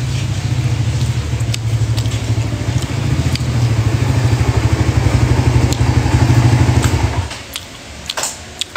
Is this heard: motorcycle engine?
yes